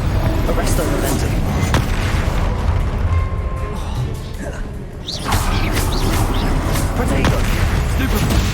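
Explosive spell blasts in Hogwarts Legacy combat: dense, continuous booming bursts and impacts layered with game effects, loud and busy throughout with a brief dip before more blasts erupt.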